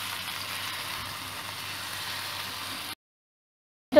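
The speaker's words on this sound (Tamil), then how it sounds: "கொஞ்சம் கொஞ்சமாக எண்ணெயில் போட்டு எடுத்துட்டோம்," Taro (colocasia) pieces fry in hot oil in a pan, giving a steady soft sizzle that stops abruptly near the end.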